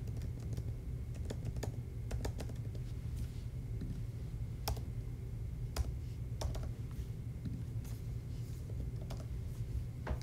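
Fingers type card details on a computer keyboard in quick, uneven bursts of close, crisp key clicks over a steady low room hum, with no voices.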